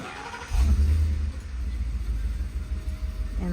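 A UPS delivery truck rumbles past at close range, its low engine swelling loudly and then easing into a fading drone, with a voice briefly heard at the end.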